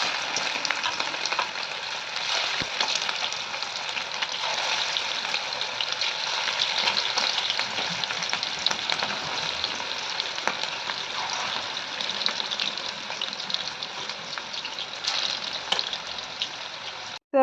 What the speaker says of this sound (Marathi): तेल गरम झालं की गॅस स्लो करायची आणि एक एक करून पीस त्या तेलामध्ये सोडून द्यायचे.